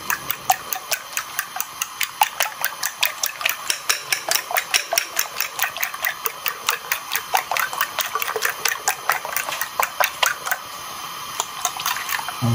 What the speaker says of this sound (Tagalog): Batihin natin siya bago natin siya ilagay sa ating